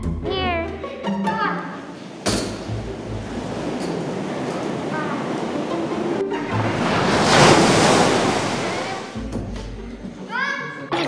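Ocean surf rolling onto a beach in a steady broadband wash that swells louder near the middle, with children's voices and chatter heard at the start and end.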